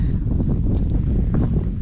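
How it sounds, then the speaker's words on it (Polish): Strong wind buffets the microphone partway along a mountain hike, a loud, constant low rumble with gusty fluttering and no speech over it. "wieje mocno, moje włosy to właśnie wam pokazują"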